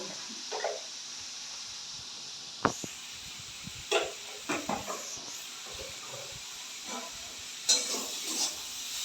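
Pasta being stirred and fried in a pan with turmeric, a soft steady sizzle broken by scattered clinks and scrapes of a spoon, no talking.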